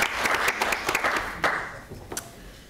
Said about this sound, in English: I think we should give a round of applause